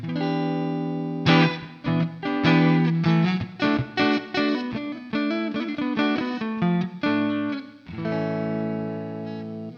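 Electric guitar with a clean tone on the neck pickup, strumming chords and picking short rhythmic notes, bright and steady, closely recorded with no talking.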